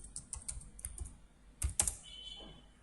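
Code is typed on a computer keyboard in a quiet room, with irregular clusters of close, soft key clicks and a couple of sharper presses.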